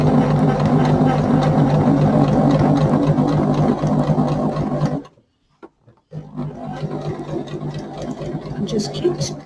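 A sewing machine stitching over a zip on an ear bud pouch, a close, loud, steady mechanical whir that stops for about a second before running again, with a voice talking over it.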